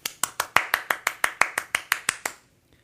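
A single listener's hands clap about a dozen times in a steady, even rhythm, close and crisp, then stop, during a stage performance of A Christmas Carol.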